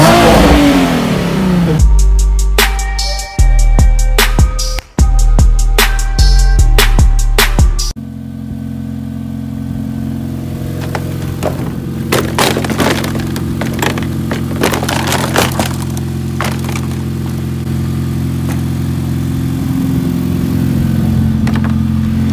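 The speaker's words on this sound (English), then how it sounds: "Let the kids at home hear your exhaust real quick." A car engine revs hard several times with a loud, throaty exhaust roar, then settles into a rumbling idle with occasional blips.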